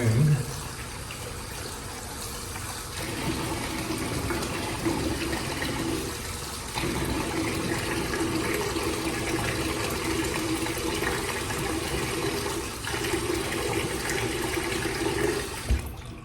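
Water drains and gurgles steadily from a bathroom sink after a straight razor shave, a continuous close rushing with a few knocks and shifts in tone, no talk.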